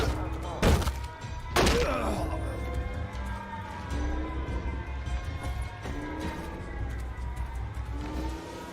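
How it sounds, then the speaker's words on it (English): Bombing in the video game We Happy Few: two heavy, close booming explosions with deep rumbles in quick succession, followed by a lingering low rumble and rising and falling siren-like tones. "They're bombing us again!"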